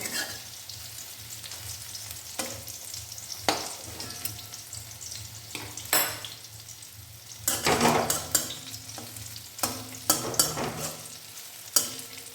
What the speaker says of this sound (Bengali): এবার অন্য পিঠটাও এরকম লাল লাল করে ভাজা হয়ে গেলে তারপরে আবার উল্টাবে